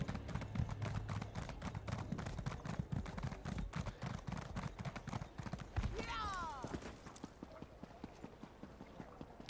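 Horse hooves in a video game clip-clop in a fast, steady gallop rhythm, close and continuous, with a brief neigh and a swooshing effect near the end as the rider is thrown, while someone talks over it.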